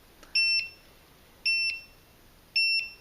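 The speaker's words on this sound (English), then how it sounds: "So this is the low alarm" A Sensyx PCD100 carbon monoxide meter sounds its low alarm: three evenly spaced bursts of shrill double beeps, clear and close against near silence.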